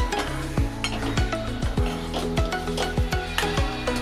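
Eggs for Malvani-style egg bhurji are stirred in a hot pan over medium flame, with a soft sizzle beneath a brisk, regular run of metal spatula clanks and scrapes close by.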